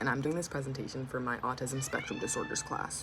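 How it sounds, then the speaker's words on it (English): A cat meows a few times, drawn-out and fairly close, mixed in under a woman's steady indoor speech. "Excuse my cat."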